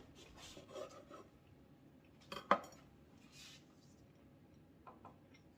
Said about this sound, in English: I'm gonna cut this end off and put you some spread on it.